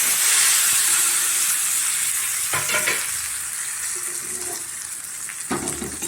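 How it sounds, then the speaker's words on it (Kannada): Hot tempering hisses and sizzles loudly as it is poured into a pot of curry, the frying noise strongest at first and then settling into a steady crackle with small pops. "ಇವಾಗ ಇಷ್ಟ ಆದಮೇಲೆ ಒಗ್ಗರಣೆಗೆ ಹಾಕಿದ್ರೆ"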